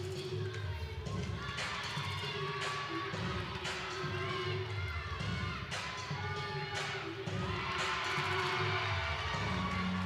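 Crowd noise rolls steadily through a gymnastics arena during a Penn State exhibition floor routine, with loud overlapping voices, bursts of cheering and a commentator talking over the din throughout.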